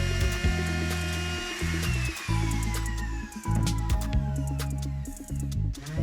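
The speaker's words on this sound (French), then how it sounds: "Pour rectifier les bords qui ne sont pas parfaits, j'utilise ma défonceuse, avec une fraise équipée d'un roulement à billes." Handheld router with a bearing-guided flush-trim bit trimming the edges of glued MDF panels for a headboard; a loud, steady high-pitched whine with brief dips as the cutter moves along, no talk.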